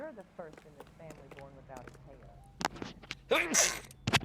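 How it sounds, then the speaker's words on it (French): People talk in a low murmur, then a sharp sneeze bursts out near the end. "Oh, je vais éternuer."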